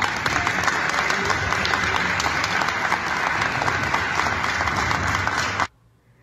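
Loud, dense applause from a crowd at a talk in a cultural centre in La Rioja, Argentina, a continuous roar of clapping that cuts off abruptly near the end into near silence.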